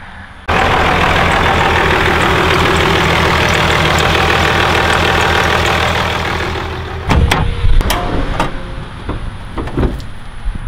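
A truck engine idles steadily and loudly for about six seconds, then its drone fades and is followed by several sharp metallic knocks and clatters.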